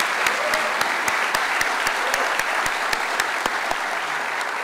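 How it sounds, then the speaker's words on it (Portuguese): An audience at an economists' week event in Maranhão, Brazil, applauding steadily for several seconds, a dense wash of clapping with sharper individual claps standing out throughout. "vamos até te aplaudir de novo agora"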